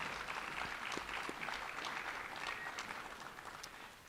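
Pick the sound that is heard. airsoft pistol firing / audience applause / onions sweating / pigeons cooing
audience applause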